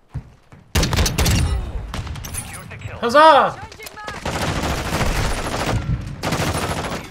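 Gunfire in a Call of Duty: Modern Warfare 6v6 multiplayer match, with bursts of automatic fire starting abruptly and continuing through most of the stretch, loud and close, plus a brief tonal in-game effect and a voice exclaiming.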